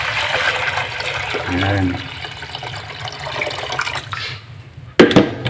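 Tap water runs and splashes into a basin while native chicken is washed for tinola, a steady pouring rush beneath a voice speaking, ending with a sharp clatter.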